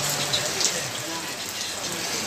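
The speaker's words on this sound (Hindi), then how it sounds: "और बारिश गिरते हुए देखिए।" Steady rain falling in Tezpur, Assam, during the monsoon month of Shravan, a dense, even hiss of drops close by that fills the whole stretch, with a faint voice underneath.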